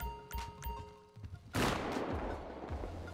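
Gunshots in GTA 5, a couple of faint pops early followed by a louder burst of shooting that carries on with a rough, crackling tail, no talk heard.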